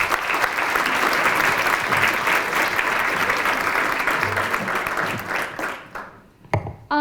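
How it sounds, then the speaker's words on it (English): An audience at a Cleveland State of the Environment event applauds loudly and steadily for about six seconds before the clapping thins out and fades, followed by a brief bump of handling noise. "can we please give a round of applause for Director O'Keefe?"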